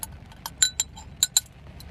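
A metal teaspoon clinks against the inside of a glass of water as it is stirred, about six sharp, bright taps in an irregular rhythm, close and clear over quiet room noise.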